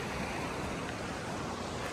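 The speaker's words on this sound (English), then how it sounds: "Got the creek right here." A creek near a riverside campsite in Yosemite rushes steadily and close by, a dense broadband wash of flowing water with no voices.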